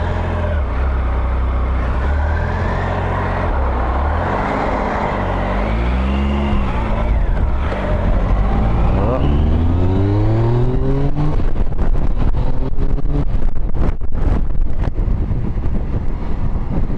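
A 2016 Tiger Sport's engine revs and climbs in pitch as it accelerates, with rising harmonic whine over steady wind buffeting, loud and close throughout.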